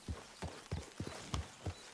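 Horse hooves clip-clop at a steady walking rhythm in Red Dead Redemption 2, with about six distinct, fairly close thuds spaced evenly over the stretch, no voices on top.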